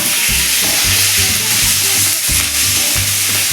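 Hing, green chilies and curry leaves hit hot oil with cumin seeds in a pan for poha. The result is a loud, close, crackling sizzle with rhythmic low stirring knocks throughout.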